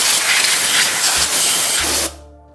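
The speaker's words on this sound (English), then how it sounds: "Give it a good blowout with compressed air too." A strong, steady hiss of compressed air blowing out an oil pan for a 4G63 engine in an Evo 9, close and loud for about two seconds before cutting off abruptly.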